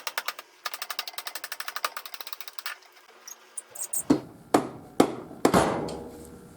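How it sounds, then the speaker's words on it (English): Rapid ratcheting or hammering clicks come first, then several loud, sharp knocks as dirt bike fork legs slide out and drop onto wood blocks, close and alone. "I just had some wood under the fork legs, and those just dropped down onto the wood"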